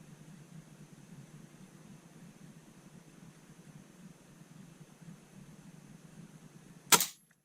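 One sharp shot from an Air Arms Kymira .177 air rifle striking a target cracks out close and loud near the end, after several seconds of quiet, steady background hum.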